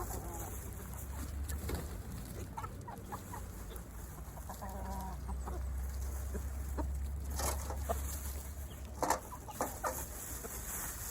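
Turkeys and other poultry clucking and chattering amid a steady low rumble and hiss, with a few sharper calls standing out toward the end.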